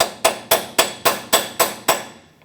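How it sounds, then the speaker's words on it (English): A hammer taps a new lower ball joint into position on a 2003-2009 Dodge Ram 2500, eight evenly spaced, sharp metallic strikes in quick succession, close and clear with no talk. "Give it a couple taps with a hammer."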